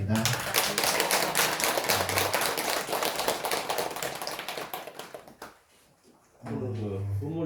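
Audience applause at a monthly Buddhist dharma service: dense, loud clapping that fades away, followed by a short silence before a voice speaks.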